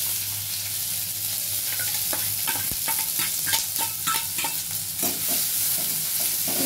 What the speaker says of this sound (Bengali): সঙ্গে সঙ্গে এর মধ্যে পেঁয়াজটা একটু ভাজা শুরু করব